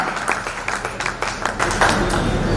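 A talk show audience claps to welcome a first-aid expert guest, a short burst of scattered, fairly close hand claps with uneven rhythm and slight crowd noise beneath.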